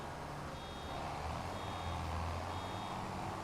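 A farm vehicle reversing in the game Farming Simulator 25, with a faint, regular series of high backup beeps over a low engine rumble.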